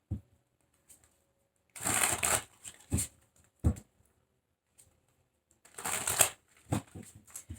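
Tarot cards are shuffled by hand in two distinct bursts of riffling and flapping, separated by a few softer taps and card handling sounds in an otherwise quiet room.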